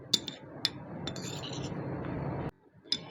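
Oil ingredients are stirred together in a container for a homemade eczema ointment. A few sharp clinks sit over a steady swishing scrape, which stops briefly before one final clink.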